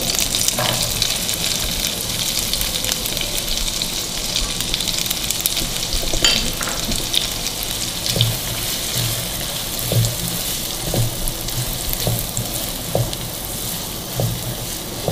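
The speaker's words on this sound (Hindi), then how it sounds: "प्याज को हम मक्खन के अंदर सौते करेंगे" Steady sizzling and crackling of chopped onion sautéing in butter in a pan, with occasional stirring clinks, continuous and close, no voices.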